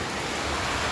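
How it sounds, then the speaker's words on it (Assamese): Heavy rain pours down steadily outside a house, a dense unbroken hiss of water close by with no voices. "চাওক কিমান বৰষুণ দি আছে"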